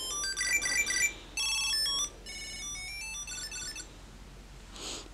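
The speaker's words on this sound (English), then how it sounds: "You can see it's ringing." A Tile Pro Bluetooth tracker rings to locate keys, playing a bright electronic chiming melody in repeated bursts, fairly loud at first and then softer, ending with a brief hiss.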